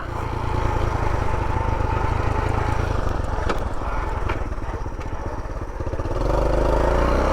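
A 1984 Honda Trail 110 motorcycle engine drones loudly and steadily while riding, its rapid single-cylinder putter close and continuous, shifting pitch briefly near the end.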